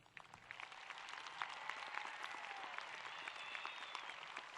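An audience at a Red Mountain Class of 2013 graduation ceremony bursts into sustained applause, steady dense clapping from a large crowd with a few whistles rising above it, no talk.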